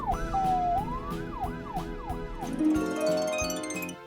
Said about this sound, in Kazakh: Дұрыс, полиция көлігінің дауысы.